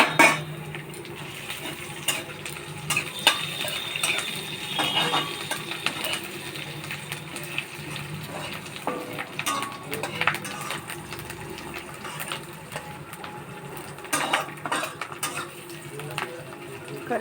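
Curry leaves, bay leaves, cardamom and ginger fry in a pan, a low sizzle broken by irregular crackles, clinks and scraping of a utensil against the pan, close by.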